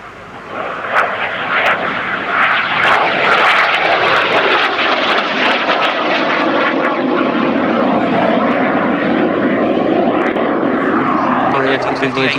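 A Jet Provost jet trainer at an airshow, its engine roaring loud and steady throughout, with crowd noise and commentary-like speech mixed in.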